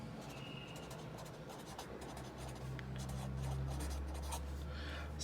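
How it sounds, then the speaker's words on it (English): Pen or marker scratching across a surface in steady short strokes, soft and close, with a low background hum and no speech over it. "So I'll write this down"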